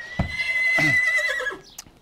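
Andalusian horse on a countryside trail ride whinnies loudly, close by, with a few clip-clop hoof strikes and rustling movement around the call over about two seconds.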